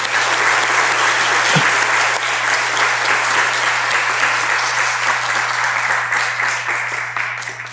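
A church congregation applauds children who came down from Seoul, steady loud clapping from a large crowd that fills the whole stretch and only eases slightly at the end.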